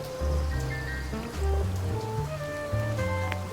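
Rain in the Duck Detective video game falls as a steady, dense patter and hiss, continuous throughout, with low tonal game music layered underneath and no one speaking.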